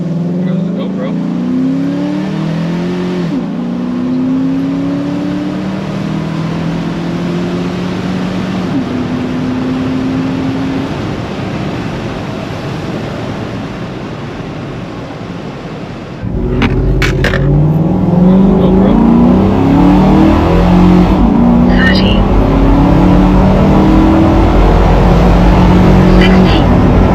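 A Chevrolet Tahoe with a 5.3L V8 and a Superchips Flashpaq tune accelerates hard on a quarter-mile run, the engine droning steadily from inside the cabin and rising in pitch and loudness partway through, with someone talking over it.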